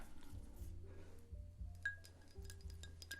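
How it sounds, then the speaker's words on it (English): A glass of water is set down on a bar counter with a light clink, followed by a few soft glassy taps and chinks, close and quiet, no talking. "So here's a glass of water."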